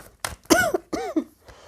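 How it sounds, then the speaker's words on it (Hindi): A woman coughs three or four times in close, loud bursts, then breathes faintly, with nothing else audible. "मेरी खांसी को थोड़ा इग्नोर करिए प्लीज़।"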